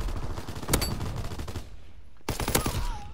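Gunshots from a World War II shooter game, Call of Duty: WWII, ring out in loud, close bursts, with a sharp volley early on and another cluster of shots after a brief near-silent gap.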